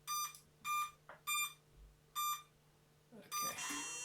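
Electronic beeping from a Hexsoon 650 drone awaiting a motor test: five evenly spaced bright beeps in a row, each about a quarter second, with a steady low hum underneath and a scrape of handling noise near the end.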